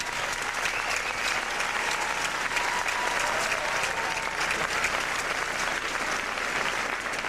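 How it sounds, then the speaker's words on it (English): An audience gives a dense, sustained round of applause for the finalists of a professional Latin American dance championship, steady and even in loudness throughout with no break. "let's have a nice round of applause once again for our finalists"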